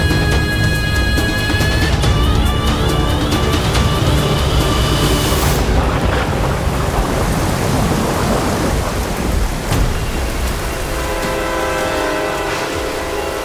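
Heavy rain pours in a dense, loud, continuous wash, with a deep rumbling roar underneath through the first half that eases later; no voices.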